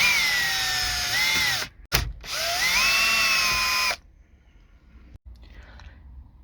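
A power screwdriver drives T20 Torx screws out of a VW dashboard in two whirring bursts separated by a short pause, close and fairly loud, then quiet handling noise.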